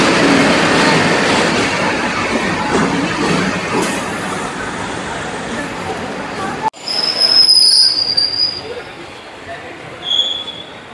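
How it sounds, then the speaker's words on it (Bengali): A long-distance express train rolls into an Indian railway station platform at night, its wheels squealing loudly over steady rumbling rail noise, with a high piercing screech rising partway through as the cars pass close by. "আর ট্রেনও চলে আসছে"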